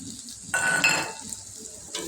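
Green chillies tossed into a pan of stir-frying chow mein vegetables, a sudden loud burst of sizzling with clattering utensil scrapes that fades to a softer fry, then flares again briefly.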